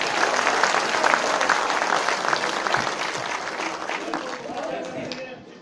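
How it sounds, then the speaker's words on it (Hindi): An audience at a mushaira poetry recital claps steadily and loudly throughout, a dense sustained applause that eases slightly near the end, with faint speech mixed in. "अगर अच्छा शेर लगाओ तो एक बार और तालियां बजाइएगा"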